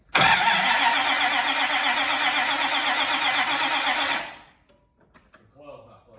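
A Dodge Dakota truck's swapped-in V8 engine cranks loudly and continuously for about four seconds without catching, then stops, leaving brief faint clicks and movement.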